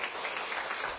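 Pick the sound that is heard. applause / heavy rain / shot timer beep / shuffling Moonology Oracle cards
applause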